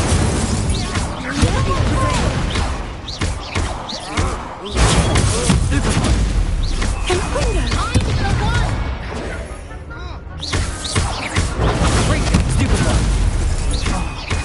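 Repeated Incendio fire spells cast in the Hogwarts Legacy video game, dense bursts of whooshing, thudding impacts and pops through a busy, loud battle, with a voice speaking over the effects.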